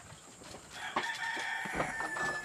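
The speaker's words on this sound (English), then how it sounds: "And you can hear the rooster." A rooster crows nearby in a backyard chicken flock at feeding time, a single drawn-out call standing out over steady outdoor background noise.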